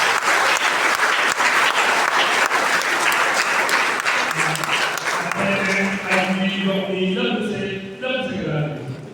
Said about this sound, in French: Merci à vous de m'applaudir fortement